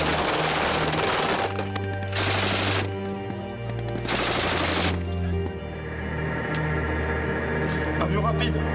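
Long bursts of rapid automatic fire from a FAMAS rifle alternate with deeper heavy 20 mm cannon fire, loud and sustained, separated by short pauses with lingering rumble, during an army anti-aircraft firing exercise.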